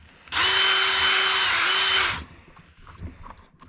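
Power drill countersinking screws for an RC car battery tray, running in one loud, steady whine of about two seconds that dips briefly in pitch, then stops and leaves quiet handling noises.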